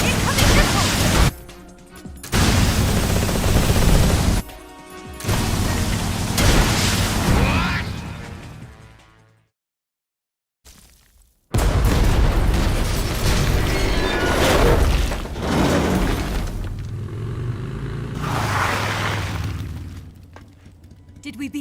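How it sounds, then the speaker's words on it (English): Missiles explode in the Metal Gear Solid Delta video game in heavy, loud booming bursts with crashing debris, several blasts in a row, a brief silent gap partway through, then more rumbling impacts. "Keep it up. Incoming missiles."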